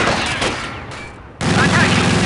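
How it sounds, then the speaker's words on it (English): Gunfire rattles at a vehicle in the video game Company of Heroes, dense bursts of shots and explosions up close, with a shouted voice over the battle noise. "Enemy is firing on our vehicle!"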